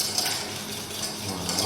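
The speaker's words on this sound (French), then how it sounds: "On mélange bien pour pas qu'il y ait de grains." A spoon stirs chocolate into a mixture in a bowl, giving a steady faint scraping and clinking, close and continuous.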